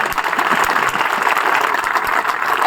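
Sustained, loud applause from a large crowd at a political rally in Jhunjhunu, many hands clapping steadily for several seconds with no break.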